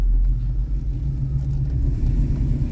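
A 1986 Chevrolet K10 4x4 pickup truck heard from inside while driving, with a steady, loud low engine rumble and road noise throughout.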